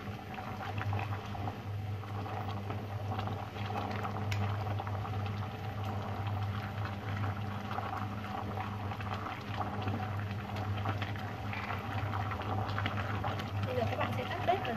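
Shredded coconut simmers in a pot of water, giving a steady low bubbling and rolling boil that stays fairly quiet and continuous for the whole stretch.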